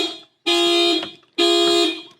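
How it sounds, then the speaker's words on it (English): Car alarm triggered by manually opening a locked car door with a duplicate key: two loud, steady electronic horn blasts, each about half a second, close by with a short gap between. "opening the door manually does set off the car alarm"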